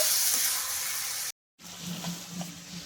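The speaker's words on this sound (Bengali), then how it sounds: "এবার আমি মাখিয়ে রাখা মাংসটা দিয়ে দেবো। দিয়ে আমি এরকম ঢাকা দিয়ে দিয়ে এই মাংস কষাতে থাকবো।" Marinated mutton browning in a covered pan, a steady loud hiss of frying that cuts off briefly when the lid moves, then returns softer with faint crackles and pops.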